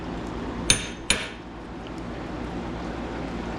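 Gentle hammer tapping on a GL 500 carburetor during a rebuild: two light, sharp metallic taps about half a second apart, close and clear over quiet background.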